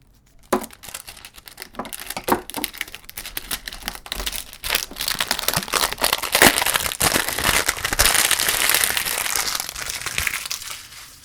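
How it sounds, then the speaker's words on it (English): Plastic wrap crinkles and tears as it is stripped off a Samsung Galaxy S10+ retail box, with a sharp snap near the start and then continuous close crackling that builds and stays busy to the end. "let's go ahead and break this box up and get rid of that plastic."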